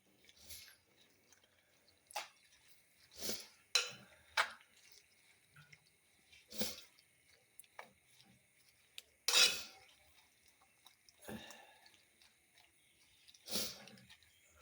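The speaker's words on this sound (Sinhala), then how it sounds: "දැන් එහෙම දාලා කලවම් කරගන්න වෙයි." A spoon stirs katurumurunga flower curry with curry leaves in a pot, making scattered soft clinks and wet scraping knocks at uneven intervals against quiet room background.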